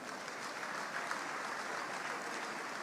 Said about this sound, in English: Please clap for this minister